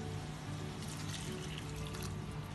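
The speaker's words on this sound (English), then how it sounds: "After that, let's put the beef broth" Beef broth poured into a pan of Filipino picadillo, making a steady liquid splashing and trickling that runs evenly through the whole moment with no voices.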